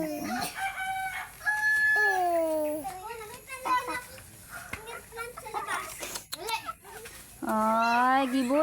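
Chickens cluck and crow in short bursts close by, with a child's and an adult's voices chattering over and between the calls.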